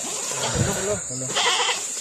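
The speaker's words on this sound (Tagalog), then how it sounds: "Dala namin yung kambing lo." A male goat brought as an offering bleats briefly amid Filipino speakers, the short wavering calls partly mixed with voices over steady background noise.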